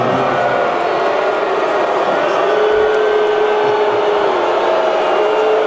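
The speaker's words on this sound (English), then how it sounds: "Mavericks Governor Patrick Dumont booed at the Mavs game." A large crowd at a Dallas Mavericks basketball game booing team governor Patrick Dumont, a loud sustained roar of disapproval that holds steady throughout with no break.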